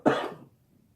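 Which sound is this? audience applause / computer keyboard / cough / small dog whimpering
cough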